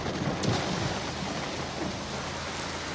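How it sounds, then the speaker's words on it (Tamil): Heavy rain pours down outside a car window, a dense, unbroken hiss with a low rumbling undertone, steady throughout and with no voices. "நல்ல மழை பெய்யுது."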